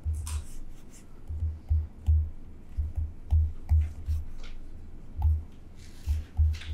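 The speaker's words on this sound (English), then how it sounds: "Let's write them down here." Handwriting with a pen or marker, soft scratchy strokes in short irregular bursts, close and quiet against a faint background.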